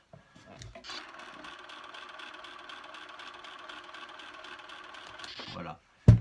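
A Konvas 35mm 1M film camera runs at 8 frames per second, making a quiet, even mechanical whir and rattle for about five seconds before it stops abruptly, followed by a short thump.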